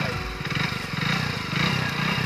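A Hero Splendor motorcycle engine runs close by at a steady idle, with an even, rapid putter and a low rumble throughout.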